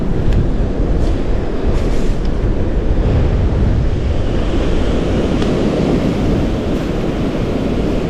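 Surf pounds a beach after Tropical Storm Debbie, a loud continuous roar of crashing waves with wind buffeting the microphone, no voices.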